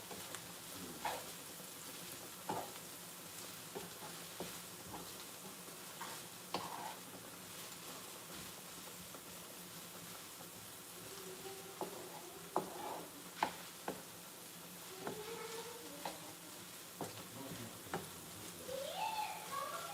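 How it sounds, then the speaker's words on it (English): Onion frying in a cooking pot on the fire, giving a soft steady sizzle with scattered ticks and stirring clicks throughout, no talk. "I'm just waiting for the onion to cook, and then I will add our vegetables inside."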